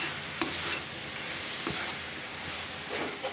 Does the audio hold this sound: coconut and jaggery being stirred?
yes